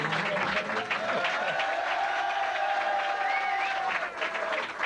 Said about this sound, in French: Et tant que vous applaudissez, merci d'applaudir les autres radios